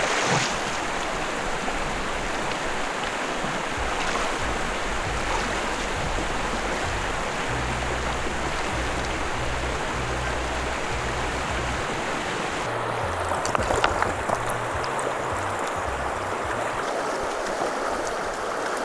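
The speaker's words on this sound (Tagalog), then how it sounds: "Kuha muna tayong tubig sa ilog dahil wala tayong baong tubig" River water flowing at a campsite in Zambales, a steady broadband rush close by that runs unbroken throughout, with a brief splash or knock partway through.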